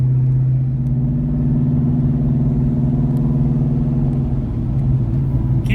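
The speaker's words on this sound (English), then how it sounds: "Driving a stick shift with a V8, man." A V8 Cobra with a manual gearbox runs in gear with a loud, steady, deep rumble that holds up close and alone throughout.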